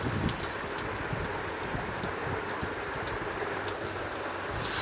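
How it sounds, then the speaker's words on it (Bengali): Chopped onion and green chili frying in hot oil, a dense, steady sizzle and crackle, close and continuous, with no talk. "হালকা নেড়ে চেড়ে নেবো তেলের মধ্যে পেঁয়াজ কুচিটা"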